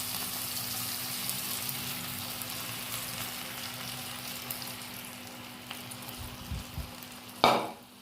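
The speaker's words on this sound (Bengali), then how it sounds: "বন্ধুরা, টমেটোটা ভাজা ভাজা হয়ে গেছে" Tomato frying in a pan for an omelette gives a steady, soft, close sizzle and crackle, ending in a sudden louder scrape or clatter near the end, no voices.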